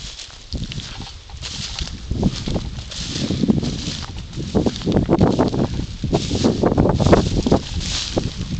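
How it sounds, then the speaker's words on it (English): Wind gusting across a crop field on high downland near Highclere, a steady breathy rush with rustling crop heads and buffeting against the microphone, rising and falling throughout. "Something of a wind sprung up at the moment, which is quite common here"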